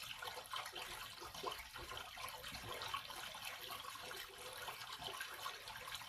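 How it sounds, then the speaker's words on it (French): Sacred fountain water at Tirta Empul temple in Bali pours in a continuous close splashing stream, steady and unbroken, with no voices. "L'eau sacrée commence à couler sur ta tête"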